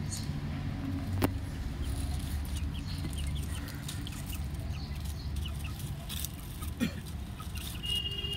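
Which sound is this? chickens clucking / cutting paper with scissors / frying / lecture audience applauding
chickens clucking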